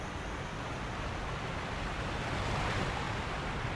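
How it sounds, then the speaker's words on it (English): A roaring waterfall in the video game Sekiro fills the space with a dense, steady wall of rushing water noise, loud and unbroken from start to finish with no voices. "The noise of roaring waterfall is deafening."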